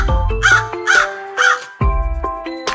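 Several loud, harsh crow caws close by, three in quick succession and then a couple more after a short pause, with no other sound around them.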